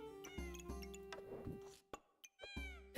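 A game cat in Backpack Battles meows several times, short pitched mews over steady background game music, with a brief gap of near silence before a final meow.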